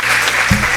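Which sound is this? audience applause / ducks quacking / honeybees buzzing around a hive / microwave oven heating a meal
audience applause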